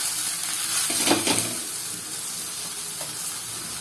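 Wheat atta adai cooks on a hot pan with a steady soft sizzle and hiss, plus a brief scraping clatter of a spatula early on, close and continuous without voices.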